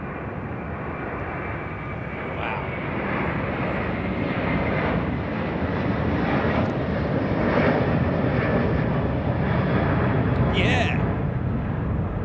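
Long Airbus A330 airliner departing Heathrow, a loud continuous engine roar that swells slightly over the clip, with people talking beneath it.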